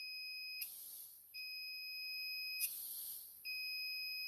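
High continuity tester tone sounding while a Honda N600 master cylinder switch is tested, two steady electronic beeps with brief scratchy contact noise as the leads touch, faint and close, no voice.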